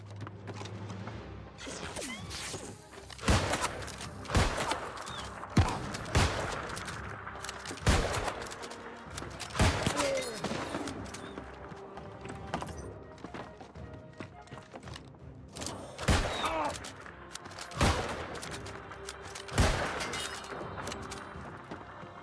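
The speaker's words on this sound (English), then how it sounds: "something's shooting at me" Gunfire in the game New World: Aeternum hits sharp and loud in scattered bursts and single cracks at irregular intervals, some close and punchy, with mechanical rattles between shots.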